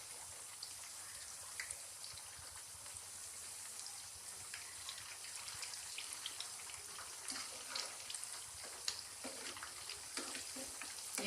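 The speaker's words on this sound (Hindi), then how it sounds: "इनको हम लाइट ब्राउन सा फ्राई करेंगे।" Potato nuggets fry in oil, a soft, steady sizzle with scattered light crackles and pops, fairly quiet and continuous throughout.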